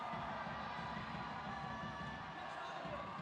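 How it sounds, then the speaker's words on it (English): A stadium crowd cheers throughout a quidditch third-place match, Werewolves of London versus ODTÜ Hippogriffs, a steady distant roar of many voices with indistinct shouts; any drumming is lost in the wash of noise. "We hear drums, we hear cheering"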